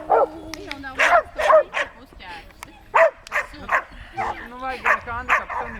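A dog barks in a run of sharp, close yips and bow-wows with short whimpering gaps between them, loud and repeated through the whole stretch, with no talk over it.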